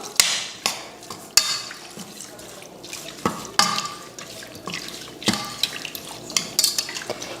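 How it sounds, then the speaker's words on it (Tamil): Water splashes and trickles into a pot of goat intestines for gravy, with scattered clinks of metal against metal, close and busy. "இப்போ தண்ணி ஊற்றி இதை கலந்துடலாம்"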